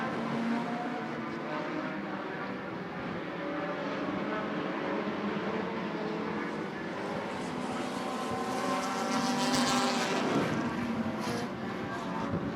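Race cars at Grundy County Speedway run a steady, continuous engine roar from a distance, with several engines blending into one drone that swells slightly toward the end, heard alone without talk.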